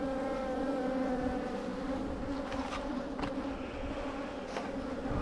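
Honey bees drone steadily at an opened hive in a bee yard during a December inspection, a dense, continuous buzz with layered wingbeat tones holding close and even throughout.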